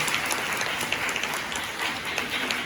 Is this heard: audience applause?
yes